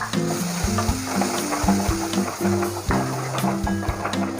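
Spice paste for butter paneer sizzles and gets stirred in a hot pan, a continuous frying hiss broken by scraping strokes, heard over a steady tonal backing melody.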